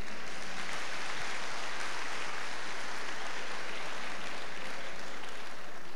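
Steady, even applause from a church congregation during a Portuguese-language service, a continuous wash of clapping at moderate level that holds throughout.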